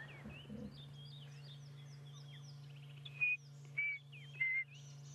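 Black-headed oriole calling at dawn on an African safari, a few short liquid whistled phrases standing out loud and near, three distinct bursts toward the end over a steady low hum and other birds chirping in the background.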